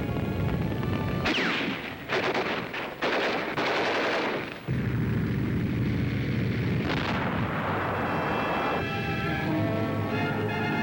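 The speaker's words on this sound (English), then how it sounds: "Under mortar and machine gun fire" Mortar and machine gun fire during the WWII Allied landing at Balikpapan: loud, dense bursts of automatic gunfire and heavy blasts, rapid rattling volleys giving way to a sustained roar of battle noise.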